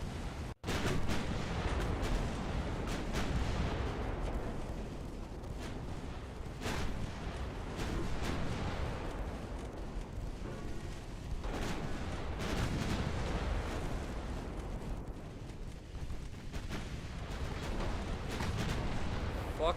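Naval guns in Ultimate Admiral Dreadnought firing a broadside, heavy booming blasts rolling one into the next across the whole stretch, with dense rumbling reports and no break between volleys.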